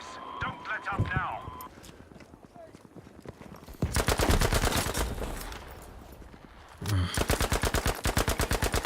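Rapid automatic gunfire from the video game Battlefield V comes in two loud sustained bursts with an evenly spaced rattle, and someone talks over the quieter stretches before them.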